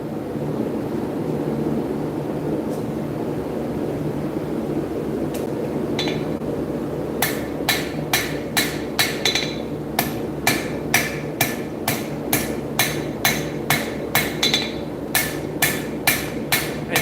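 A hammer strikes a bar on an anvil after a quiet stretch of low background hum, loud close ringing metallic blows that start sparse, then fall into a steady, rapid rhythm of evenly spaced strikes.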